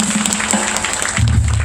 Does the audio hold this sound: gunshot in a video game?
no